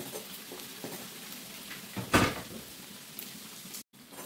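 Beignets frying gently on low heat, a soft, steady sizzle close by with occasional light stirring clinks and one brief louder scrape.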